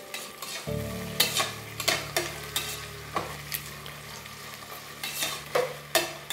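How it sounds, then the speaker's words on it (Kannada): Chopped onions sizzle in a hot pan for vegetable pulao while a spoon stirs them in regular scraping strokes over a steady frying hiss and a low hum, close up, with no voices. "ಈರುಳ್ಳಿಯನ್ನು ಡೈರೆಕ್ಟಾಗಿ ಇದ್ರೊಳಗಡೆ ಹಾಕಿ ಕ್ಲೀನಾಗಿ ಒಂದು ಸಾರಿ ಮಿಕ್ಸ್ ಮಾಡ್ಕೊಳ್ಳಿ"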